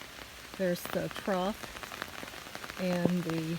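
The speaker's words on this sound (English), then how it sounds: "probably hear it raining now" Rain falls steadily outdoors across a landscaped garden with a crepe myrtle, a continuous close patter throughout while someone speaks a few brief words over it.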